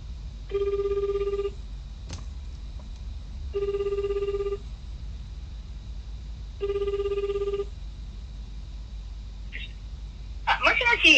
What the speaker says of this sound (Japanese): 次お母さんにかけてみるわ